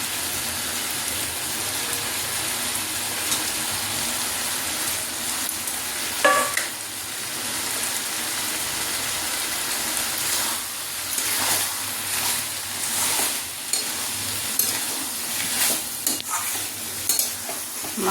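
Prawns go into a pan of banana-flower curry with potatoes, frying with a steady close sizzle while a utensil scrapes and stirs in short bursts, no talking.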